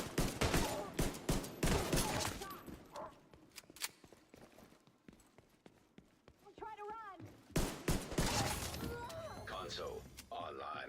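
Gunfire rings out in a shooter video game, with sharp shots and bursts that clump early and late around a quieter stretch, mixed with someone talking over the game.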